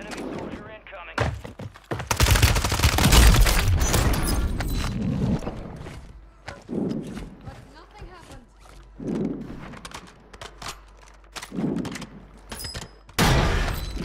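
Call of Duty Plunder gunfire, a heavy burst of shots and shattering impacts early on, followed by scattered sharp reports and bursts, with players talking between them.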